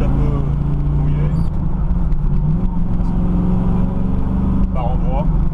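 A 1968 Chevrolet Camaro SS 396 V8 pulls away gently in first gear on a partly wet road, its engine note rising as someone talks over it from inside the car.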